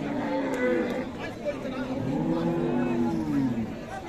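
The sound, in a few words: Friesian cows at a cattle market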